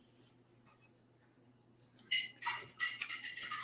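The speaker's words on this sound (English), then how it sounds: "Oh, I can hear crickets now." Crickets chirp in short regular pulses at night, starting faint and steady, then joined by louder, denser insect trilling toward the end.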